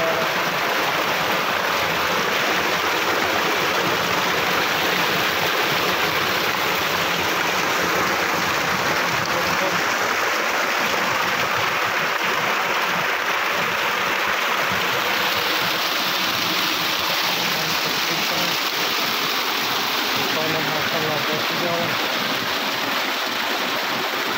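A 10HP submersible pump on a new 10-inch tubewell drives water out of a 4-inch outlet into a pond. The water makes a steady, loud rushing gush that continues unbroken throughout, with no talking.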